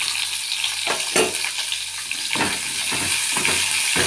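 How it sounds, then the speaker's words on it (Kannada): Chopped onion frying with crushed ginger-garlic paste and greens in a pan, a steady close sizzle broken by several scraping stirs, with no talking. "ಚೆನ್ನಾಗಿ ಹುರಿಯೋಣ. ಈರುಳ್ಳಿ ಎಷ್ಟು ಫ್ರೈ ಆಗಲಿ."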